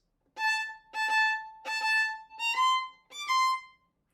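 A bowed string instrument plays five separate bowed notes of Wohlfahrt etude 44, with short gaps between strokes and a slight rise in pitch toward the end, solo and close with no other sound.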